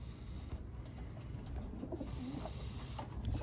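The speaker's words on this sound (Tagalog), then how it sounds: "Ito siya mga kalapatids," Taiwan pigeons coo softly in a pen, with low, murmuring calls rising and falling over steady background noise, while faint chirps come through now and then.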